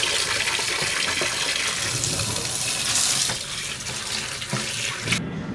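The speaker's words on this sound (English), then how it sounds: "is just getting water in the tank" Water rushes into an RV holding tank, a steady, close hiss and splash of flowing water with a slight drop in intensity toward the end.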